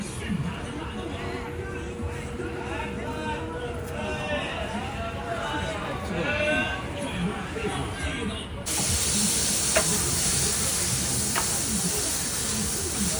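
Squid sizzles on a hot surface at a Beijing street food stall at night, a steady close hiss and spatter that swells louder partway through, with people talking over it.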